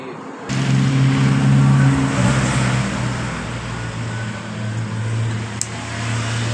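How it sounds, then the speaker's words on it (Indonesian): A Honda Genio scooter engine starts abruptly and keeps running, a loud, steady close-up hum with a low droning tone that eases slightly after the first seconds. "coba kita langsung pasang dan akan kita cek hidupnya motor ini"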